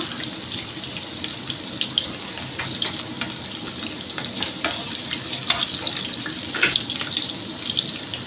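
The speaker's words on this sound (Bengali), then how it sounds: "আমি কিন্তু এই মাছের তেলেই কিন্তু ভাজছি" Potatoes fry in catla fish oil in a pan, giving a steady hiss and crackle with occasional sharp pops and stirring scrapes, close and without talk.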